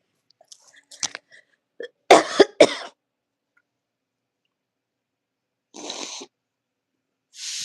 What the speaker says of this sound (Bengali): প্রচন্ড কাশি হচ্ছে